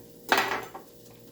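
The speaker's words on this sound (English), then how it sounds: "And we're going to stir that." Butter being stirred in a pot while making potato soup gives one short scraping clatter of utensil against pot lasting under half a second, followed by near-quiet. No one speaks.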